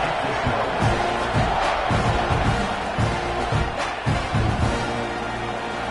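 A football stadium crowd roars and cheers after a scoring drive, a dense, sustained wash of voices with bursts of louder yelling, loud and continuous.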